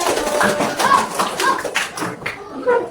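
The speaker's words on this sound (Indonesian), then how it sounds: "Tepuk tangan untuk kelompok" A small group of people in a meeting applauds for a group, giving loose, uneven clapping with individual claps standing out. A few voices can be heard talking over it.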